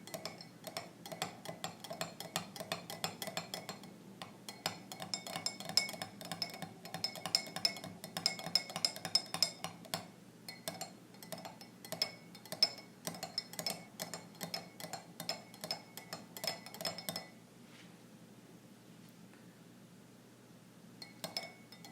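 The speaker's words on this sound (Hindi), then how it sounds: "और अब इसको दोबारा मिक्स कर लेते हैं।" Spoon stirring a tukh malanga (basil seed) drink in a glass, rapid close clinks in an uneven rhythm for about seventeen seconds, then stopping, with no talk.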